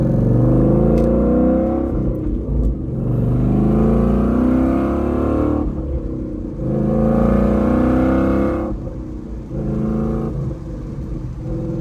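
A 2013 Ford Mustang GT's engine pulls hard on a street, loud and close, with rising revs through several gear changes and brief dips between pulls.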